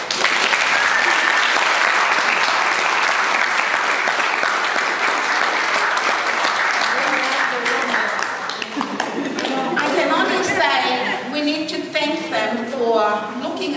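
An audience at a twentieth anniversary celebration claps loudly in a sustained wave of applause that fades after about eight seconds, with voices rising as the clapping trails off.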